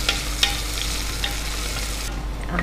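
Two onions frying in a pan for tomato rice, a dense continuous sizzle close by with a spoon scraping and stirring every so often, no talk.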